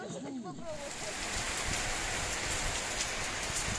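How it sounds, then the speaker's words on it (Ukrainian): Steady rain pours down in a dense, hissing wash. A brief voice is heard at the very start, then only rain. "Дощик і до нас прийшов."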